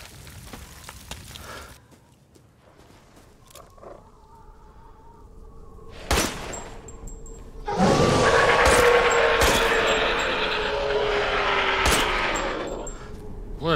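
Sustained gunfire from the Resident Evil Village video game, a dense loud burst of rapid shots in a combat scene, with earlier scattered single hits and ambient game noise before it.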